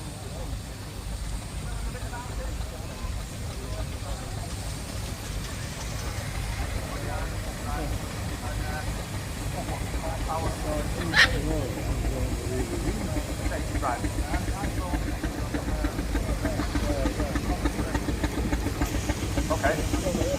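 A 1929 Aveling & Porter 6 horsepower showman's steam engine rumbles and hisses low as it enters a fairground arena, steady and continuous, with a brief sharp hiss partway through and an announcer talking over it.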